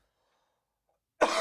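After near silence, one sudden, close cough bursts out at the very end, rough and throaty.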